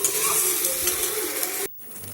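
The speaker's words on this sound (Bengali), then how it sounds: "এবারে মশলাটা দিয়ে ভালো করে কষাতে থাকবো যতক্ষণ না মশলার থেকে তেল ছাড়ে।" Spice paste fries with young jackfruit and potato in a pan, giving a loud, dense, continuous sizzle up close with scraping stir noises that cut off abruptly near the end.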